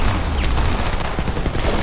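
Heavy battle gunfire from the video game Homefront rattles continuously, a loud, dense barrage of shots with no break.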